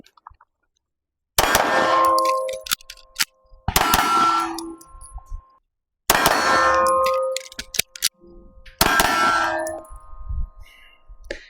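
Magazines drop out of 2011-style pistols and strike a hard surface, producing four sharp metallic clangs spaced a few seconds apart, each ringing briefly before fading, with no talk over them.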